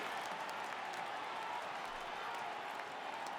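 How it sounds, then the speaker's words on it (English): In the baseball video game MLB The Show 18, a stadium crowd keeps up a dense, steady roar of cheering and clapping for a 3-2 count, filling the whole stretch. "Crowd gets up for the 3-2."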